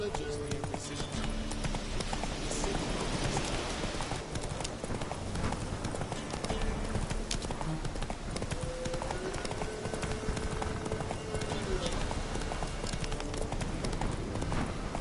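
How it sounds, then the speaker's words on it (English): Steady, rhythmic hoofbeats of a horse trotting in a video game continue throughout at a moderate level, with occasional snorts and background game ambience. "Whoa there, Roach"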